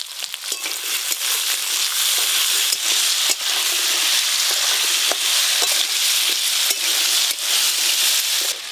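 Potatoes being lightly fried in a pan for a Bengali banana-flower curry give a steady, dense sizzle throughout, with small clicks from occasional stirring.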